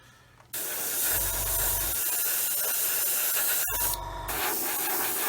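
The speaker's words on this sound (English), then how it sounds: "all I'm doing first of all is spraying the areas where the decals are" Gloss coat is sprayed over decals on a 1/144 Roden C-141B Starlifter model, a steady close hiss in two bursts, the first lasting about three seconds and the second starting after a brief pause.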